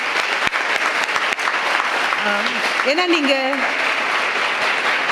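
A college lecture audience gives sustained, loud applause for a young Rotaract member, the dense clapping continuing throughout while a speaker's voice talks over it.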